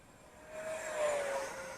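An Eachine F-16 RC jet with 550mm wingspan and a 50mm electric ducted fan cruises at partial throttle, its thin whine swelling and then easing as it passes at a moderate distance.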